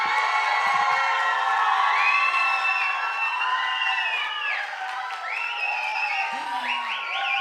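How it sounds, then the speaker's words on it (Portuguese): A church audience cheers, whoops and claps to welcome a young girl, a birthday girl, coming up to preach. Crowd noise is loud and continuous, with high shouts and whistles over the clapping. "Vocês vão receber com muito carinho, com muito amor e com muitas palmas a aniversariante de ontem que vai pregar"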